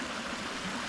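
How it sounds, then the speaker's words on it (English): A river near an African village flows in a steady, broadband rushing wash of water, continuous and fairly close, with no voices. "we have the river here flowing"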